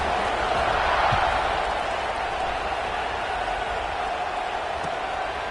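A football stadium crowd at kickoff makes a steady, loud, broad roar that holds level throughout without letting up.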